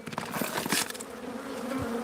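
Africanized bees buzzing at a hive removal, a dense steady drone of many insects close up with occasional louder passes near the listener.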